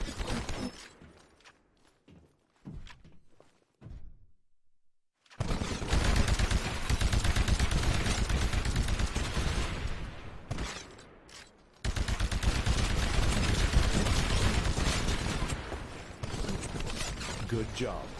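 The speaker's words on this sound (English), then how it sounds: "Switch to your anti-Titan weapon. Destroy the Titan with your anti-Titan weapon." Anti-Titan weapon fire against a Titan in the Xbox One game Titanfall: a few sparse sharp shots, then a brief gap before dense, loud, sustained bursts of firing and impacts that keep going almost to the end.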